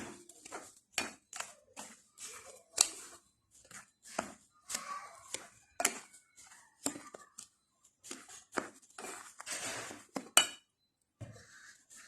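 Dry pancake ingredients being mixed in a bowl, heard as irregular clinks and scrapes of utensil against bowl in short bursts with quiet gaps between, close and moderately loud.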